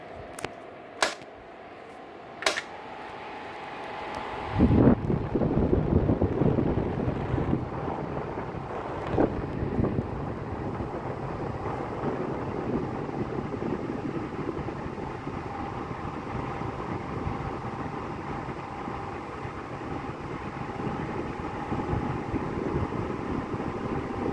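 A SilverCrest column (tower) fan runs steadily, producing a continuous broadband whoosh of blowing air close to the microphone, preceded by a few sharp clicks from its controls.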